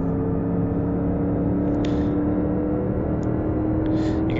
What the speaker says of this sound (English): So we'll leave pit road here and get the speed.